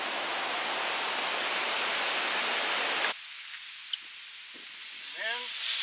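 Water sprays steadily over a boat hull for about three seconds in a dense, close hiss, then cuts off, leaving faint drips and small sounds.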